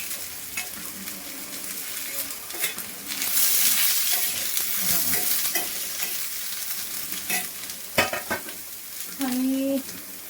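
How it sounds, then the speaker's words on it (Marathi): Two or three chopped onions sauté in hot oil in a pan, giving a steady crackling sizzle broken by scraping stirring clatters, with a brief voice near the end. "कांदा पण छान परतून घ्यायचा तेलात"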